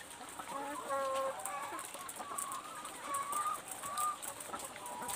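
Laying hens cluck and cackle repeatedly in battery cages in a busy, enclosed space, several birds calling over a steady background hum.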